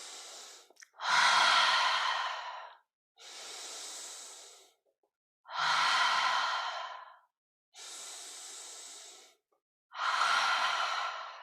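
Deep, forceful breathing during guided breathwork comes in six long, close breaths of about two seconds each, alternating inhales and exhales with short silent gaps between them, audible and alone with no talking.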